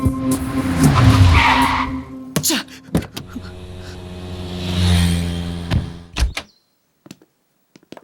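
A car skids to a stop with a long tire squeal, followed by sharp door thumps, a second swelling engine-and-skid sweep and a final clunk before near silence, up close and loud.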